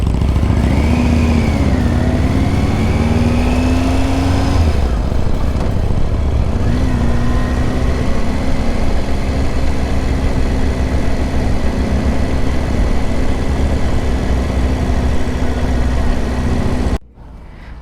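Motorcycle engines idle and rev in downtown Helena, Montana, a loud, steady mid-pitched drone with a rising throttle blip near the start, running continuously before cutting off abruptly near the end.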